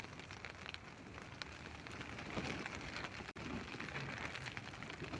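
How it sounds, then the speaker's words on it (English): Light rain falling outdoors during an unsettled, thundery spell in Torrevieja, a steady soft hiss of drops on surfaces continuing throughout with no talk over it. "it's actually raining now. Quite light."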